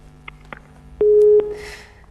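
A telephone busy tone sounds once after a dropped call, a short steady beep of under half a second standing out over faint background noise.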